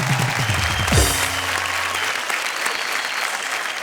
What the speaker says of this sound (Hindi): भाई ताली बजाओ।